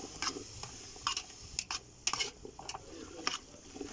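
Chickpea masala (sundal) being stirred in a pot with a spoon, a series of soft scraping ticks and taps at irregular intervals, fairly close but quiet, with no talking.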